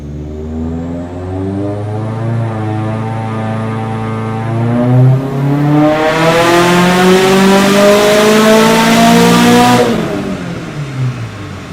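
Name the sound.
loud Woolman 2.5L engine revving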